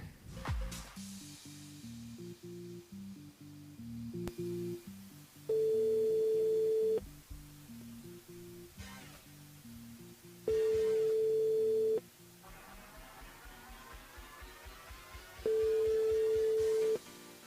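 A telephone call rings through to a radio station switchboard on a live phone-in show, the ring tone sounding three times as loud steady sustained bursts over quiet background music.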